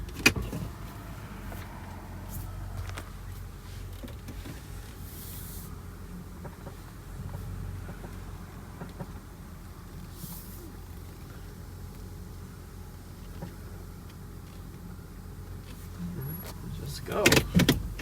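An Acura MDX with a bad transmission creeping at about 15 mph in the city gives a low, quiet, steady rumble, with a few brief knocks near the start and end and occasional voices.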